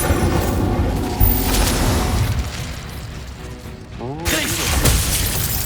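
Incendio fire spell cast in the Hogwarts Legacy video game: a loud whooshing burst of flame with booming impacts over dense game sounds and music, then a swelling second blast near the end.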